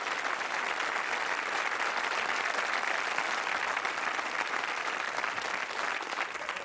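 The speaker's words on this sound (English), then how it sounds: "Let's give them a nice round of applause" A television game show studio audience applauds a couple of contestants, a steady, full wash of clapping that holds at an even level for several seconds without speech.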